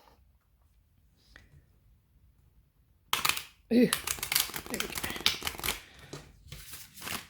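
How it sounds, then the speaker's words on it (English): Riffle shuffling a thick, sturdy Rider Waite Smith tarot deck gives a dense, close burst of rapid card flutter and clicks, then a few shorter riffles, with a brief spoken exclamation over it. "So riffling is a little bit harder on this one again."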